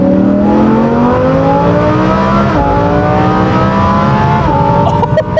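A Lamborghini Huracan Performante pulls hard from third gear, its engine loud and close, the pitch climbing steadily with a brief dip partway through before rising again.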